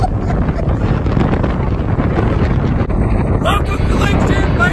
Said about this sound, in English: It's super windy today, as you can see by Alex.